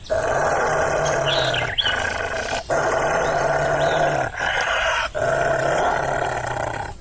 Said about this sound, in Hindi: तभी भेड़िया उसे देखकर गुर्राने लगता है।